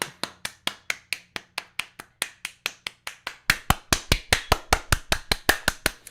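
Steady hand clapping from a small group for someone named Emma, sharp claps in a regular rhythm that grow louder and denser after a few seconds, close and with no voices.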